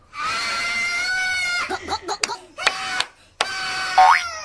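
In a Roblox mukbang game, a character gives a long, warbling cartoonish scream that breaks into choppy bursts and ends with a rising squeal. It sounds close and loud, with no speech.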